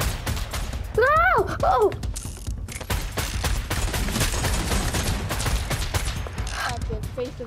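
A new gun in Fortnite fires in fast bursts of rapid shots across the scene while a player shouts in alarm over the shooting, with other game effects mixed in.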